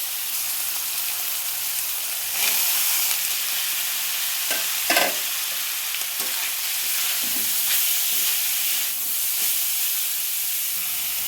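Vegetables for chicken momo filling fry in a hot pan, a loud, continuous sizzle and hiss with occasional stirring scrapes and knocks, close and steady throughout, no speech.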